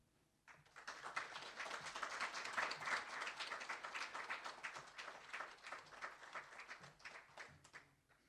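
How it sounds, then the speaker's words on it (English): An audience at a book launch event gives warm applause that starts after a quiet moment, swells to a dense crowd of clapping, then thins out toward the end, fairly faint overall. "Very, very warm applause and welcome."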